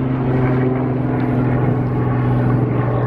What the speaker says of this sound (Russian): Вертолеты летают, солнышко светит.